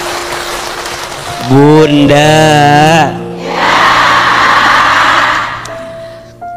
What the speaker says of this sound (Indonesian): Tepuk tangan buat Bunda yang sudah bertanya.